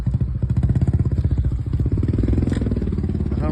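A motorcycle engine idling close by at night on a hill trip in Darjeeling, a loud steady low throb with rapid regular pulses throughout, no speech.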